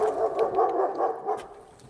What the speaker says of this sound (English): Let's go see what's Duke barking at